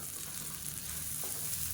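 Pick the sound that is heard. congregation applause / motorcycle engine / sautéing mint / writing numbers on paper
sautéing mint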